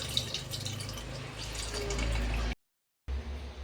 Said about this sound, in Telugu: ఇప్పుడు చింతపులుసు పోసుకుంటున్నాము.